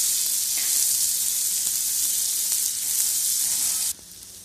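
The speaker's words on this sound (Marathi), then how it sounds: "थोडं तेल टाकायचं आपल्याला मग कांदा आपल्याला छान असं लालच्या रंगात परतून घ्यायचा आहे" Onion frying in oil in a pan for cabbage paratha makes a loud, close, continuous hissing sizzle that drops off sharply near the end, with no talking.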